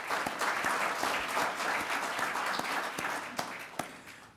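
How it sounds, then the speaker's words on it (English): Symposium audience applauding lead sponsors, a full room of steady clapping at moderate distance that thins toward the end with a few last claps. "If we can give them a round of applause."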